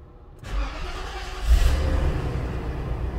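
A cold Mercedes 500E engine turns over and settles into a steady, close, low rumble that swells briefly about a second in, then holds a continuous running drone with no talk.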